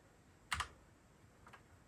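Keys are typed on a Royal Kludge RK98 mechanical keyboard: one sharp clack followed by a softer second click, close up and quiet.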